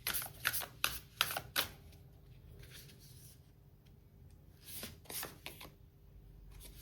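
Tarot cards are handled and drawn, with a cluster of crisp flicks and taps at the start, a quieter stretch, then a few more snaps near the end.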